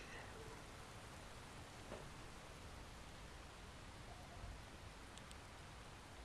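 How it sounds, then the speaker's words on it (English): Heavy rain in the ghost-hunting game Phasmophobia: a steady, faint hiss of downpour fills the whole stretch without pause, with only a couple of tiny ticks standing out. "the heavy rain just seems so loud"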